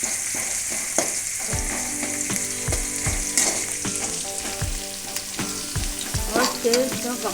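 Tomatoes added to a hot pan of oil and golden garlic while making a Tamil-style fish curry, frying with a steady close sizzle and repeated thuds and scrapes of stirring throughout.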